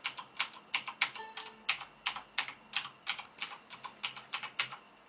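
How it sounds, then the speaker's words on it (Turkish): Keys clattering on a Logitech G710+ mechanical keyboard with brown Cherry switches, a steady run of crisp, close clicks with a slight typewriter-like feel, heard alone. "tuşlara basınca böyle e, daktilomsu bir his ve ses veriyor"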